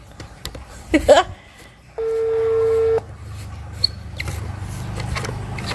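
A telephone is dialed, giving one clear steady tone about a second long, with scattered clicks and handling noises before and after over a low background rumble.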